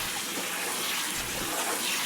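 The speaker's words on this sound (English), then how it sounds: "we're just going to use really lukewarm water and give it a good spray down to try to get all that junk out of there" Lukewarm water sprayed over a laptop to rinse out spilled gunk, a steady close hiss and splash of running water with no pauses.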